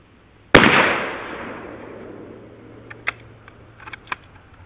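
A single .223 full metal jacket round is fired into cast aluminum, a sharp loud crack with a long fading tail, followed by a few faint metallic clicks of the rifle's action.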